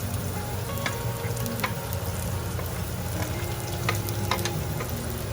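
Onion and garlic frying in a pan for eggplant masala, a steady close sizzle with faint crackles and occasional stirring scrapes, continuous throughout without talk.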